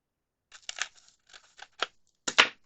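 Scissors snip through excess junk mail envelope paper in a few quick, close cuts with short pauses between them, crisp and alone with no talking.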